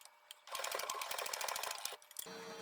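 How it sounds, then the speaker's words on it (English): Sewing machine stitching a jersey corset made from a Tampa Bay Buccaneers Mike Evans jersey, a steady rapid run of needle strokes for about a second and a half, close and loud, then stopping with a few short bursts. "I'm going to do a little sewing ASMR."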